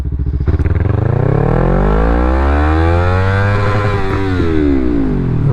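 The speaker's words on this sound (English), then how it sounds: "So what I'm going to do is I'm going to let the bike idle in first gear." Yamaha MT-03 motorcycle accelerating hard from near idle in first gear at full throttle toward redline, loud, close engine note rising steadily in pitch throughout with no talk.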